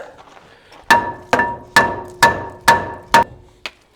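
A mallet strikes the rear brake rotor of a 2013 Dodge Ram in a series of six or seven sharp, ringing metallic blows at a steady pace, loud and close, with no talking.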